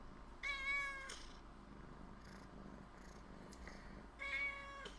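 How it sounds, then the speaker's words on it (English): A pet cat meows twice, close and fairly clear, with drawn-out calls separated by a few seconds of quiet room tone and a soft purr underneath. "This is my cat."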